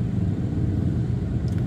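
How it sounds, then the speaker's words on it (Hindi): Steady low rumble of road traffic outside in rainy Mumbai, continuous engine noise heard from indoors with no voices. "सो अभी है ट्रैफिक है बाहर,"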